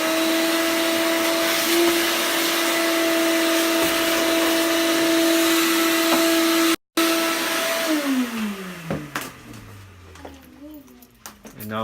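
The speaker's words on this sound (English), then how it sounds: "Now I gotta get the vacuum here." A vacuum cleaner runs with a steady motor drone while cleaning out a Samsung dryer during repair, cutting off briefly mid-run and then winding down to a falling whine and scraping handling sounds near the end.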